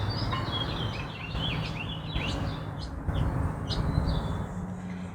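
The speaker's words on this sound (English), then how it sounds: "Hey look, we've got a new bird that just came in. This is a male American Goldfinch." A male American Goldfinch gives a run of high, thin chirps and twittering calls at moderate distance over a steady low outdoor rumble.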